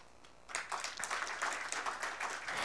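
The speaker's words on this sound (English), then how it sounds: "I need a big round of applause from your side" An inauguration audience breaks into applause at the host's request, a faint room-wide patter of clapping that rises abruptly after a quiet start and continues evenly.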